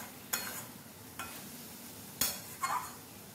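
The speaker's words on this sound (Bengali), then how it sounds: "বেশ ভালোভাবে ঝিঙেটা কষানো হয়ে গেছে, ঝিঙেটা থেকে জল ছাড়তে শুরু করে দিয়েছে" Ridge gourd (jhinge) sautés in a pan under a soft, steady sizzle, with a few distinct scrapes and clinks of a spatula stirring it, quiet and close, no talk.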